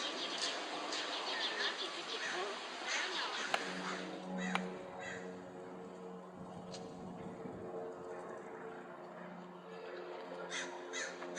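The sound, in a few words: bird cawing, likely crow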